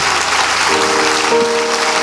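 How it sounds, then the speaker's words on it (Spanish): Church congregation applauding the Lord with dense, loud, sustained clapping that fills the moment, while a sustained musical tone or voice rises underneath partway through. "Dele ese aplauso al Señor, que es el que lo merece. Déselo con fuerzas."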